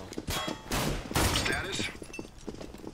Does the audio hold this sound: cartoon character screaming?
no